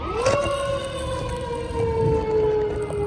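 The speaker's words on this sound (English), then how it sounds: "what you're hearing is a siren." A loud veterinary transport vehicle siren wails steadily and close by, its tone sweeping up then holding a high sustained pitch with slight wavering.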